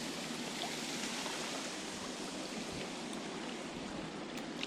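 Polluted water pours over a seawall into an industrial river in New York City, making a steady broadband rushing wash heard from nearby without a break.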